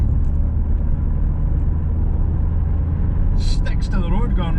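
A Vauxhall Corsa B 1.4Si with 165/70 13 budget tyres drives on the road, its engine and road noise forming a steady, loud low rumble from inside the car while someone talks over it.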